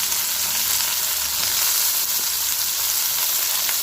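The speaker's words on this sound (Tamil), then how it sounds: "வாழைக்காயை சேர்த்து நல்லா வதக்கிக்கலாம்." Sliced raw plantain sautés in a pan for a South Indian vazhakkai poriyal. A loud, close, unbroken sizzling hiss holds steady throughout, with no voices.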